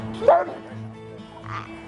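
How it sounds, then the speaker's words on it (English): A service dog in training, a former stray, gives one sharp bark near the start, followed by softer whimpering sounds while people talk nearby. "now a service dog in training for 4-year-old Rogan"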